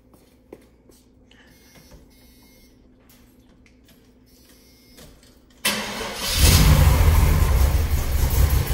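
A car engine is cranked and fires up while its ignition base timing is being set, quiet workshop hiss giving way after a few seconds to a sudden loud catch and then a steady, strong running roar.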